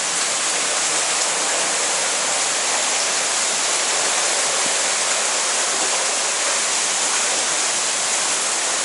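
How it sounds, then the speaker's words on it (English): Heavy rain pours down during a thunderstorm as a dense, steady roar heard from a back porch, even and unbroken throughout with no voices. "It's raining heavier than ever."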